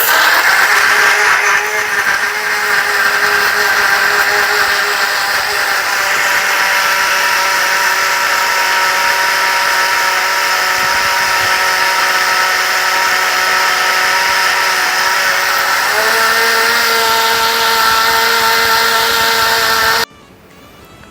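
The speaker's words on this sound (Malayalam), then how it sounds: "3 മാമ്പഴം എടുത്തത് വളരെ നന്നായിട്ട് മിക്സിയിൽ അടിച്ചെടുത്തിട്ടുണ്ട്" A kitchen mixer grinder blends three ripe mangoes into a creamy shake, a loud steady whirring motor hum that runs unbroken for about twenty seconds, its pitch shifting slightly near the end before it cuts off abruptly.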